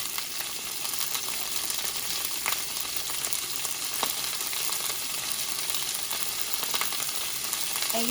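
Asparagus seasoned with adobo, garlic powder and black pepper simmering in a pan, a steady, even sizzle with occasional faint ticks, heard alone.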